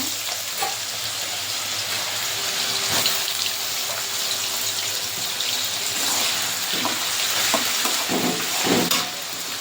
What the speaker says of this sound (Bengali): গাজরগুলো এবার ভেজে নেব